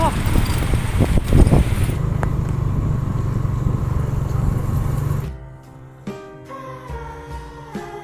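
An unserviced, poorly maintained motorcycle running roughly at night, its engine droning loudly with sputtering bursts before dropping away to a quieter idle with scattered knocks.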